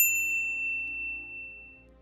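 A single bright notification bell ding strikes at the start and then rings out with a clean tone, fading slowly over about two seconds with no other sound.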